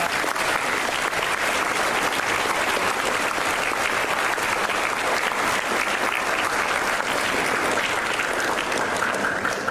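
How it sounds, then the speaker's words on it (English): A school assembly audience gives dancers sustained, loud applause at a NAIDOC assembly, dense clapping filling the hall steadily for about ten seconds. "So big round of applause, they're up the back."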